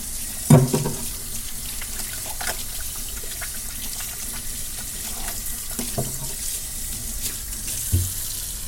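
A white eel washed under a running kitchen tap, a steady stream of water hissing into the sink with a few splashes and knocks as it is handled, no talking.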